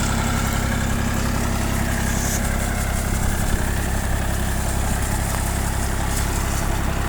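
A Yuto tractor works a field while pulling a potato digger. The engine gives off a loud, continuous drone with a rough mechanical rattle throughout, and there is no speech.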